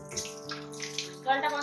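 A home tap runs steadily for a moment in a kitchen, a short stream of water with a faint voice-like hum mixed in.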